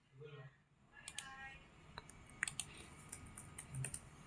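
Numbers keyed on a computer keyboard for data entry, with sparse separate clicks and key presses in a loose rhythm, close and fairly quiet, while a voice speaks softly at the start.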